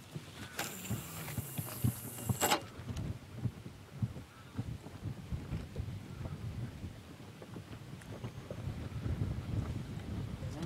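Wind gusting steadily outdoors on open water during pike fishing as a storm cloud approaches, a low continuous rumble and buffeting across the whole clip with a brief brighter noise burst near the start.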